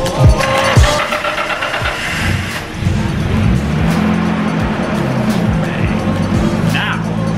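A Nissan R32 Skyline's RB20 engine runs loudly and close in a parking lot, revving with rising and falling pitch sweeps over a steady rumble, with voices and crowd noise mixed in.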